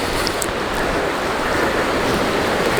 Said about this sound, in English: Near the creek down there on the left.